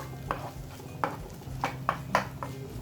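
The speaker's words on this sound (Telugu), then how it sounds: "మసాలా పేస్ట్ ఎంత చక్కగా ఈ విధంగా ఫ్రై అయిపోవాలి" Masala paste for a brinjal curry is stirred in a pan, a spoon giving soft taps and scrapes about every half second over a faint, low sizzle, all quiet and close.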